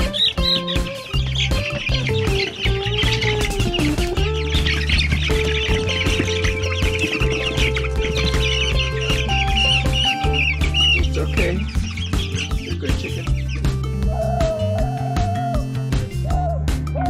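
Young chickens cluck and chirp steadily throughout while being moved into a brooder, a dense layer of bird calls with ongoing activity and handling noise underneath.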